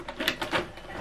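The cover of a Canon PIXMA TS9155 printer swings shut with a short series of close plastic clicks and rattling thumps lasting about a second.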